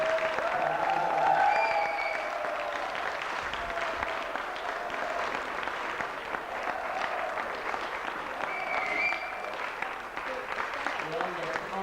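Loud sustained applause from an audience at the INTIMA installation ceremony, a dense wash of clapping lasting several seconds with faint crowd murmur beneath.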